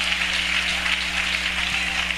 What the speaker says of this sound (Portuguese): Palmas bonitas para Jesus.